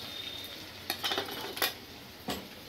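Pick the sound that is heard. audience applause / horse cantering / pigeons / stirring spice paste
stirring spice paste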